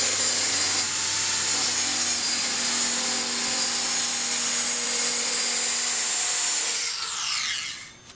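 A circular saw running along a guide track slices through wood, giving a loud, steady high whine for about seven seconds before the blade spins down and fades.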